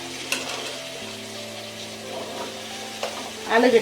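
Potato and tomato pieces fry in refined oil, giving a soft steady sizzle with scraping stirs and occasional taps, swelling louder as the pan is stirred near the end.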